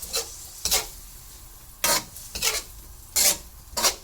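Beef sautéing in a pan with a utensil scraping through it in about six distinct rhythmic strokes, each a short, bright, close scrape over a quiet sizzle.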